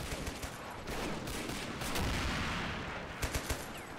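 Rifle and light machine gun fire from Lee Enfields and Bren guns in the Men of War video game, set in a WWII Dunkirk outskirts defense by British troops, a dense continuous fusillade with a few sharper nearby shots toward the end.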